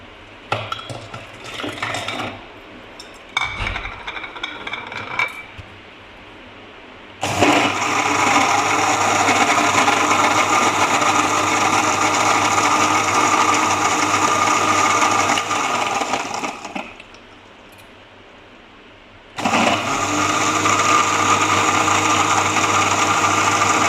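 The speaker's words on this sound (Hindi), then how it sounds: "अब इसमें बर्फ डालेंगे," Blender crushing ice for a vanilla ice cream milkshake: loud, close, steady grinding whir in three bursts, with brief pauses and clattering between the runs.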